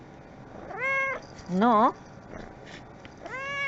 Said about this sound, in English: This is for my black kitty cat, a black beautiful kitty cat.